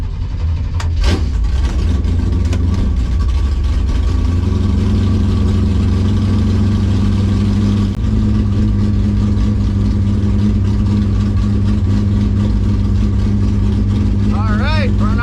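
A 1965 Impala SS drag car with an LS7 engine idles steadily at a drag strip, its deep, loud, rumbling drone holding constant close by, with a brief rev early on and faint chatter underneath.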